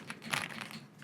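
Soft, quick key presses on an Aula F75 mechanical keyboard fitted with Leobog Green Reaper linear switches, a flurry of close, quiet clicks and taps in a fast uneven rhythm.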